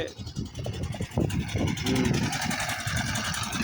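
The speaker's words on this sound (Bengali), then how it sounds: "নৌকা, ছোট নৌকা চলে গেল।" A small motor boat putters past on the Jamuna river, a throaty engine drone that swells and stays close and loud, with faint voices underneath.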